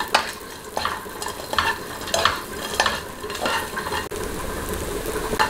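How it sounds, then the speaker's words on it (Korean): Butter sizzling steadily in a hot pan during stir-frying for a Korean home-cooked meal, with repeated stirring scrapes every half second or so, close and fairly loud, no talking. "버터를 한 숟갈 넣어서"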